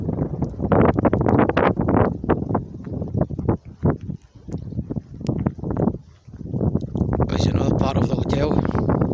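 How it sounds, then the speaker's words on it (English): Wind blows outside a hotel near Gatwick, London, heard as rough gusty buffeting on the microphone that rises and falls, with a person talking over it. "I can hear the wind out there."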